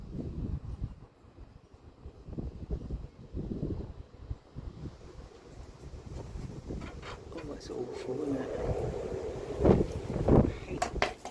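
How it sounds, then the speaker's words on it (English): Gusty wind buffets the microphone with low rumbling bursts, growing rougher toward the end, while a person speaks briefly over it. "There we go, that's how windy it is."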